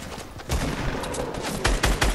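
Rapid gunfire from Fortnite gameplay, a dense volley of loud, close shots with sharp bursts near the end, no talk over it.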